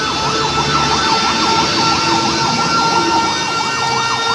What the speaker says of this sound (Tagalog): So may bumbero pang parating.